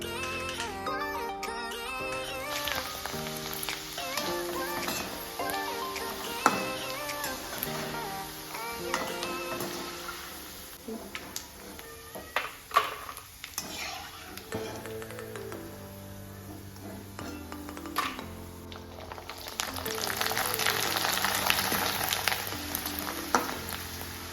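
Homemade bobbi snacks frying in hot oil, a steady close sizzle with crackling bubbles and occasional taps and clinks of utensils, swelling louder near the end.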